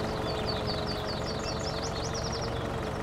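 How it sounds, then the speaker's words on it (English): A John Deere 2032 mower tractor engine in Farming Simulator 19 runs at a steady, continuous idle-like drone. A rapid, chattering mechanical warble sits over it with no pauses. "We this morning are mowing our lawn."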